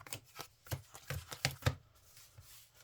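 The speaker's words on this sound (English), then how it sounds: "So let's shuffle them up real quick." Yu-Gi-Oh! trading cards being shuffled by hand, a quiet series of soft, irregular riffling snaps and flicks recorded close up.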